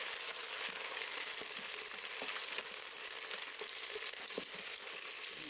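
Oxtails browning in hot oil in a pan, with spices, onions, ginger and garlic at the bottom, give a steady, dense, close sizzle that holds without pause and has only faint crackles.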